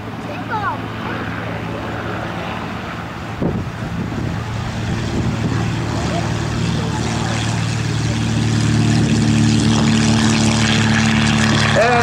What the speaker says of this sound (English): Here goes Mark on his takeoff roll.